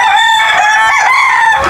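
A native desi rooster crows loudly and close in a rooftop chicken coop, one long sustained call with other birds clucking faintly around it.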